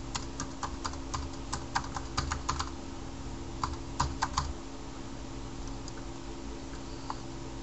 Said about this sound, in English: And type in your name and anything else you want.